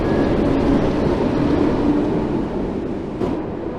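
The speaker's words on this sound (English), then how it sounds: "Sounds on this train sound spectacular" A train rumbles steadily along the Isle of Wight line in Train Sim World 2, a loud continuous rolling drone with a faint tonal whine and a brief higher burst near the end.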